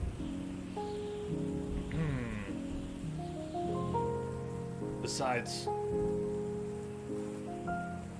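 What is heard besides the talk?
rain falling in a video game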